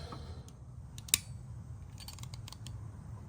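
A single sharp snip cuts the last tie on the door wiring of a 2006 VW Jetta. Faint small clicks follow over a low steady hum, with no talk.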